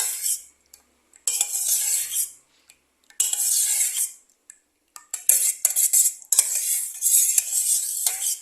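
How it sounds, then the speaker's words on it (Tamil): A spoon stirs homemade fabric conditioner in a bowl, scraping and clinking in several bursts of a second or two, with short quiet gaps between them. "இதே நல்லா மிக்ஸ் பண்ணிடுங்க."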